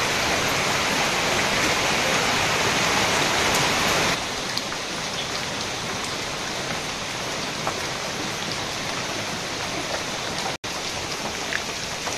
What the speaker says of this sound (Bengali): বৃষ্টির পরে আবার বৃষ্টি শুরু হয়েছে।